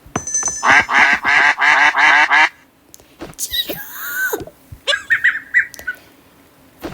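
Cartoonish duck quacks in the Toca Boca game, a quick run of five or six bright squawking calls followed by a sliding whistle-like effect and a few shorter chirps; a voice briefly speaks.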